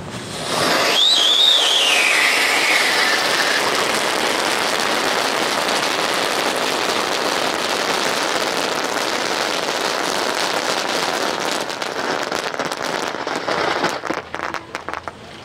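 A Star Well Planet Wheeling Show spinning wheel firework bursts into a loud, continuous hissing crackle with a brief whistle at the start, fizzing steadily nearby before sputtering toward the end.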